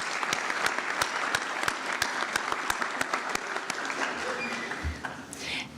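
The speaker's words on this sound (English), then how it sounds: "we'll give him a round of applause anyway" An audience at a Shepherd University nursing pinning ceremony gives sustained applause, a dense wash of many hands clapping with a few sharp, louder claps standing out, fading slightly toward the end.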